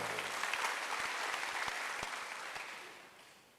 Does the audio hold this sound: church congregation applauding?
yes